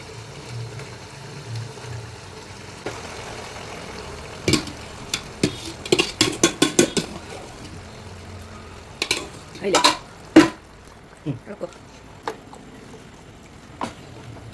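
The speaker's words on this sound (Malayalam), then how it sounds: "ഇതെല്ലാം കൂടി നന്നായിട്ട് മിക്സ് ചെയ്തെടുക്കാം" A metal spoon clatters and scrapes in a pot while Kottayam-style kappa biryani of tapioca and beef is mixed, with quiet stretches then bursts of clinks and knocks in the middle and toward the end, near and fairly clear.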